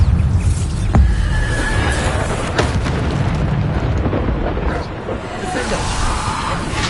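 Bombarda explosion spell cast in Hogwarts Legacy on PS5, a dense rumbling blast with sharp bursts over a roaring, sustained wash of combat noise, under a speaking voice.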